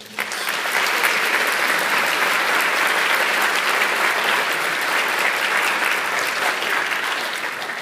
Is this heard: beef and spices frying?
no